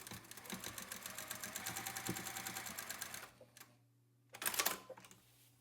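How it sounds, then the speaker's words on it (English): A sewing machine runs steadily over a thick denim seam on old jeans, its fast rhythmic stitching chatter continuing for a few seconds, then stopping, followed by a brief burst of handling noise. "go over that seam, a little slower than you normally would, because you don't want to break a needle and you don't want to stress your machine out too much"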